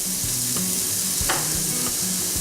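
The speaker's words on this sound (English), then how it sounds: "put our steak in there, looking to get a nice sear on it" Steak searing in hot olive oil in a pan gives a steady, loud sizzle and crackle throughout, with a few sharper pops and scrapes rising over the constant frying hiss.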